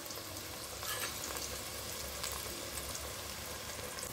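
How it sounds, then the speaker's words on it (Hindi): Onions browning in two spoons of oil, with whole garam masala and cardamom alongside, giving a continuous, even sizzle of frying that carries on without a break. "और अब मैं प्याज लाल कर रही हूँ, 2 चम्मच तेल डाल के प्याज मैंने डाल चुकी हूँ।"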